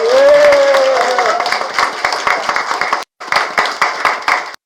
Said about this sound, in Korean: 또 박수는 앵간하면 치지 마시고